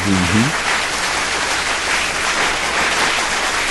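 A crowd applauds a guest introduced on a morning talk show, broad steady clapping filling the whole stretch, with a brief voice at the very start.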